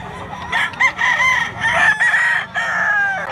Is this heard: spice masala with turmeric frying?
no